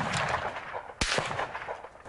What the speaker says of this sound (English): And squeeze the trigger.